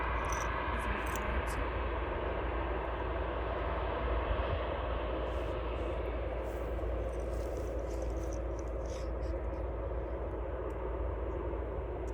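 Two helicopters fly over a rapeseed field, a broad continuous engine and rotor roar that stays steady and fairly loud for the whole stretch, with faint insect-like chirps above it and no voices.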